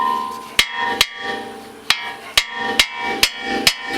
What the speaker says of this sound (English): I'm gonna hammer this out.